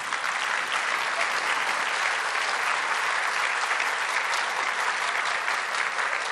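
Sustained applause from an audience honoring a minister at a Brazilian government ceremony, a dense, steady roar of clapping that holds evenly from start to finish.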